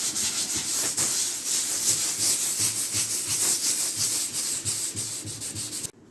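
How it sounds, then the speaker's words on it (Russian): Sandpaper rubs back and forth over a table surface to roughen it before microcement is applied, a loud continuous rasping hiss with a steady stroke rhythm that stops abruptly at the end. "И шлифуем его."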